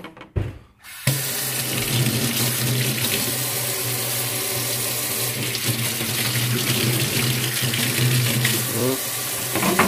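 Lukewarm running water streams steadily from a tap into a container to soak fresh mango seeds, a continuous close splashing flow after a brief pause at the start.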